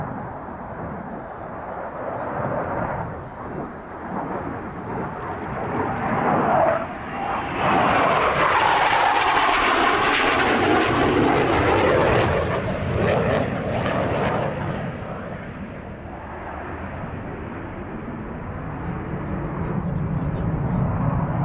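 A SAAB J-35 Draken jet fighter roars past during an air show at the Midlands Air Festival 2024. Its loud, rushing engine noise swells in the middle and then eases off, with a voice speaking under it.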